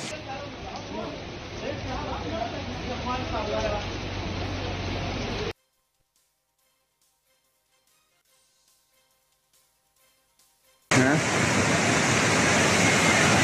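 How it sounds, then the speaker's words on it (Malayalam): Broad, steady rushing water, loud and close, fills the scene, broken by a stretch of near silence before the roar returns; a voice speaks over the first part. "ഈ വീടിന്റെ അങ്ങേ ഭാഗത്തു കൂടെയാണ് പുഴ പോകുന്നത്"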